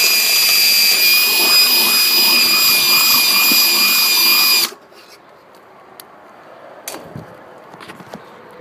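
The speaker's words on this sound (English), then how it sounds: "Using a 7/32 drill bit, drill a hole." A power drill with a 7/32 bit bores a hole in the control panel of a Trane XB300 unit during a ground-wire recall fix, loud and steady for about four and a half seconds, then stopping and leaving quiet handling clicks.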